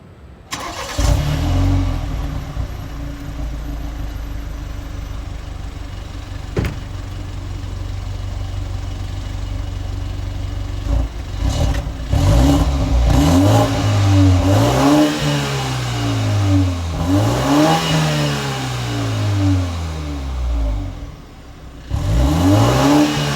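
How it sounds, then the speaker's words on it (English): BMW 320i G20 sedan fires up with a brief whoom, settles into a steady idle, then revs repeatedly in rising and falling sweeps, loud and close with no talk. "When you start the car up, it has a little whoom to it, which sounds good for you and your passenger."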